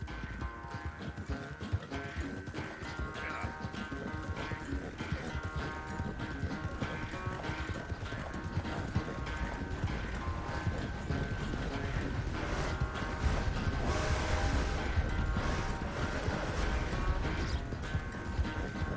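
Horse hooves clip-clop in Red Dead Redemption 2, a steady rhythmic trotting that runs throughout. It sits under a dense layer of game music and ambience.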